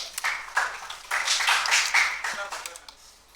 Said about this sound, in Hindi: तालियां बजाओ भाई, तालियां बजाओ